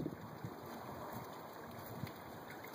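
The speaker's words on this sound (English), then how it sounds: "it is kind of breezy out" Wind blowing outdoors on a breezy day, rumbling steadily against the microphone with a few faint bumps, low and constant with no speech.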